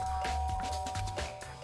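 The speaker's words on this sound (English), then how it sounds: "Press the doorbell." A synthesized doorbell chime rings steadily in Danganronpa Reload over a busy game soundtrack, with a sustained tone running through the whole stretch.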